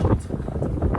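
Strong wind buffets the microphone beside the River Thames on a cold waterfront, giving a loud, steady low rumble and roar through the whole moment.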